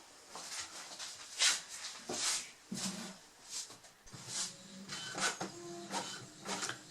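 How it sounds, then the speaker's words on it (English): A printer prints a page nearby, giving a series of soft mechanical whirs, clicks and paper-feed swishes in uneven bursts, fairly quiet with no voices. "we're now printing the page from the document that has the numbers the right way around"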